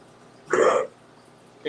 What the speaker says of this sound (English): He's still coughing, huh?